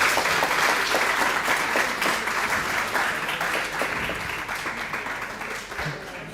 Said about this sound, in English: Can we have a round of applause for all the participants and everyone?